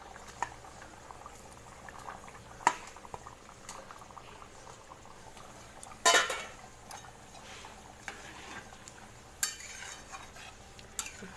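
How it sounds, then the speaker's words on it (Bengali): Fish curry gravy with fried fish and chopped leaves bubbles in a pot, a quiet steady boil with occasional clinks and stirring bumps. "একটু ফুটে গেলেই নামিয়ে নেব।"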